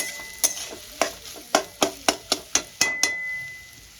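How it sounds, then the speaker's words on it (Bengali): Onions with a little salt frying in oil in a pan until browned, a steady faint sizzle under a run of about ten sharp, evenly spaced clinks and scrapes of stirring. "পেঁয়াজটা একদম আমি ব্রাউন করে ভেজে নেবো"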